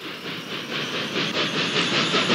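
A steam train in the Roblox Thomas & Friends game rolls past with a loud, steady hiss of steam and a faint rhythmic clatter of wheels, heard alone.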